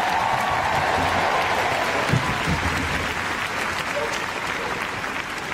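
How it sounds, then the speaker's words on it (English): Big indoor crowd at Crufts applauding and cheering an RAF police agility dog, dense continuous clapping and shouting at steady volume, with a few voices and brief whistles rising out of the din. "Let's hear it for today's champion, Phantom!"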